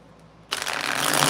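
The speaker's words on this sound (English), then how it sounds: "I feel like I have to shuffle one more time." Tarot cards riffle and shuffle close by, starting abruptly after a short quiet moment and continuing as a steady dense rustle.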